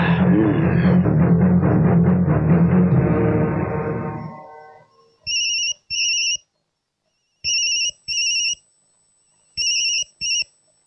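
A telephone rings in bursts of two trilling electronic tones, three paired rings spaced apart in an otherwise quiet room after loud music fades out.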